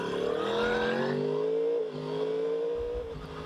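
The engine of a 2016 Yamaha YZF R1, a 1000 cc sport motorcycle, revs hard, climbing in pitch, then drops back and holds a high whine. It is loud and close, with no voices.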